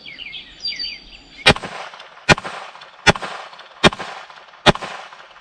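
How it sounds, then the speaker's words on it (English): Five sharp, unsuppressed .22 rifle shots fired into dirt outdoors, evenly spaced less than a second apart, loud and close, following a stretch of birdsong with no talking. "we're going to fire 5 shots into the dirt just so you can hear what this sounds like here"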